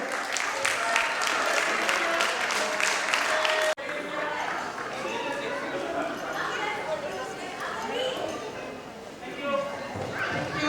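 Audience at a Kumon award ceremony applauds, steady dense clapping for several seconds, then an abrupt cut to a busier crowd with scattered clapping and chatter.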